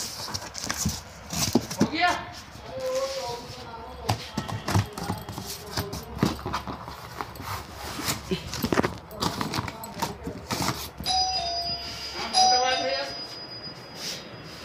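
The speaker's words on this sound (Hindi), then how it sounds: "बज गई घंटी।" A bright electronic chime rings out twice amid busy household noise and a talking voice, clear tonal notes over the clutter.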